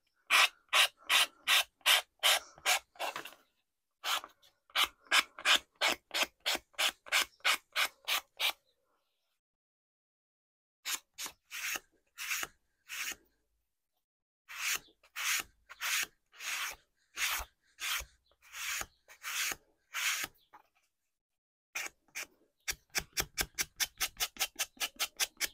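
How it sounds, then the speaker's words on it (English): A rough nail file rasps against the edge of a handmade bookmark in quick, rhythmic strokes, close and crisp, falling into bursts separated by short silent pauses and ending with a fast flurry. "I get these nail files that are quite rough and they seem to work well for this job."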